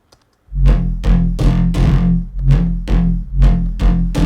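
A distorted Serum synth, run through distortion effect plugins, hitting repeated short, punchy notes in a steady rhythm, loud and gritty with a buzzing, saturated tone.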